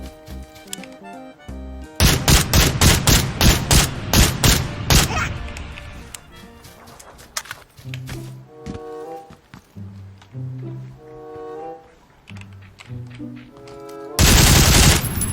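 Rapid automatic gunfire in the game PUBG (Battlegrounds), loud bursts of close shots in fast succession, then sparser scattered shots and a final loud burst.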